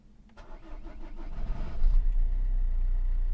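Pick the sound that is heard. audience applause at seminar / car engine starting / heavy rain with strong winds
car engine starting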